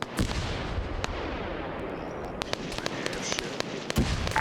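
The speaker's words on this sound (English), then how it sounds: "Yeah, friendly firework." Fireworks bursting in a military video game, several sharp cracks and pops scattered irregularly over a steady background hum, with faint distant bangs in between.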